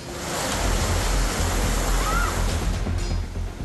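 Steady, roaring rush of water discharged from Darna dam at about 22,966 cusecs fills the whole clip, a broad continuous wash of noise that stays loud and even throughout.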